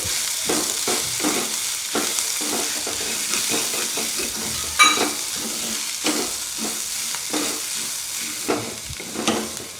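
Peas chaat mixture with chopped coriander is stirred in a hot pan, a continuous close sizzle with repeated scraping strokes of a spoon throughout, no voices.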